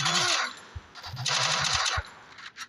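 Gunfire in a shooting video game rings out as a quick burst of sharp shots, then a couple of isolated cracks within a few seconds, with no voices.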